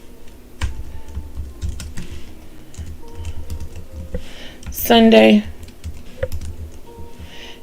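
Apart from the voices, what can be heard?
typing on a computer keyboard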